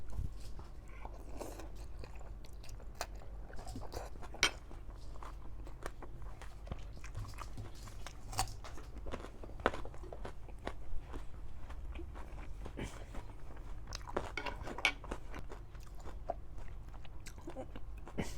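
Someone eating spicy, tender chicken feet from khanom jeen nam ya pa, chewing and sucking at the bones: steady, wet, close-up mouth sounds with soft crunches throughout, no talking.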